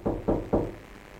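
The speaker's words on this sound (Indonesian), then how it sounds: "Terdengar suara ketokan pintu." Three firm knocks on a door in an even rhythm, close and fairly loud, with no voices.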